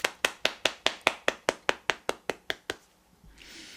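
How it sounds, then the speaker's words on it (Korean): About thirteen evenly spaced, crisp single claps ring out close and loud in a steady rhythm, then stop, leaving faint room noise. "박수로 맞아주세요."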